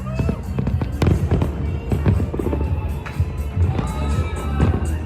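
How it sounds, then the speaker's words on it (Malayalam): New Year's Eve fireworks burst over Dubai at the Palm, seen from a hotel: a dense, continuous barrage of loud booms and crackles layered on top of each other, with faint crowd noise beneath. "എത്ര ഫയർ വർക്കാണ് ഒരുമിച്ച്"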